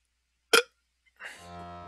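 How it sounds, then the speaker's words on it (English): Two burps from a game character: a short sharp one first, then after a pause a longer, lower, droning burp, both fairly quiet against silence. "Those are de-stress burps."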